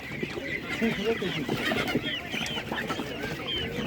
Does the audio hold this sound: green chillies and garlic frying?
no